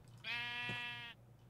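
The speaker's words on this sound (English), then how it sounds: "Hey, sheep." A single sheep bleat from Minecraft, a clear wavering digital baa lasting under a second, close and alone over a quiet background.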